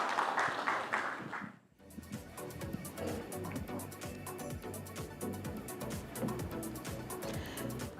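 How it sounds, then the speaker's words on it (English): Audience at a real estate conference clapping after a panel session: a quiet, dense patter of many hands that begins after a short murmur and carries on steadily, heard from some distance. "A huge round of applause"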